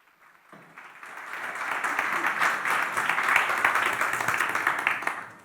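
Conference audience at an impact equity investing event breaks into applause, swelling quickly and holding as dense, steady clapping from a full room before fading at the end.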